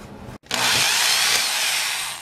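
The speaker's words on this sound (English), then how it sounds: "Next, I need to remove this white thing by removing four screws." Loud, steady whine of a power screwdriver or drill removing screws from a car's instrument cluster cover, starting after a brief pause and running continuously for about two seconds.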